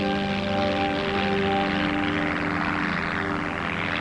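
A propeller aircraft, the Voyager, roars steadily through a takeoff run, its loud engine drone holding firm and close with a layered, tonal hum throughout and no speech.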